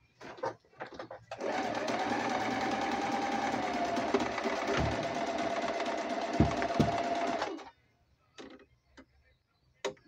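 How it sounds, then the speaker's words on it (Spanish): A Panavox 11C sewing machine stitching a straight seam, a steady close whirring run of about six seconds with mechanical ticking, bracketed by brief knocks and handling before and after. "Bueno, ahí está cosiendo."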